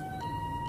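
Ambulance siren in the video game Sakura School Simulator, a brief steady electronic wail with a small pitch step, loud over a dense low rumble.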